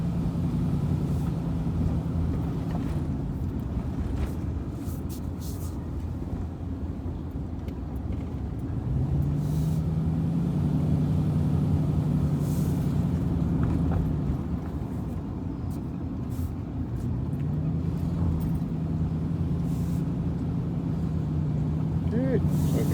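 Loud, steady low engine rumble of a truck fills the whole stretch, with talking over it throughout.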